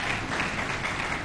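Audience applause at a Congolese press gathering honouring senior women journalists, a steady, dense clatter of many hands clapping throughout, moderately loud and sustained with no pauses.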